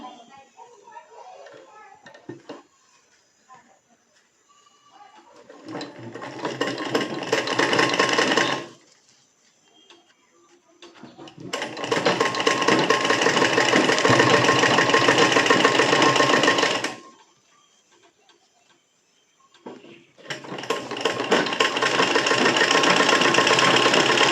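Electric sewing machine stitching a Katori blouse in three long runs of rapid, steady whirring and clatter, separated by short pauses, close and loud, with brief talk at the start.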